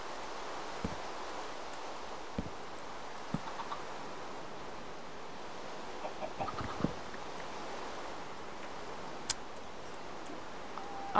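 Faint, distant chickens clucking sporadically in a pen over a steady background hiss, with occasional soft rustles and ticks.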